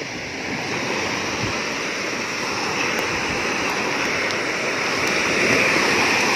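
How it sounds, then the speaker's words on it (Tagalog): Waves wash onto the sand at Nacpan beach, a dense, continuous roar of surf close to the microphone with some wind noise, steady and loud without speech. "Ayan, medyo may wave siya."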